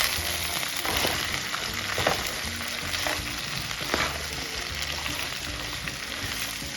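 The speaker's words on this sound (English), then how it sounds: "Now we're gonna mix these veggies up, work that rub in" Vegetables coated in a garlic jalapeno rub sizzling over medium heat while being mixed in a pan, a dense loud hiss with intermittent scraping strokes of the utensil, close and continuous with no voices.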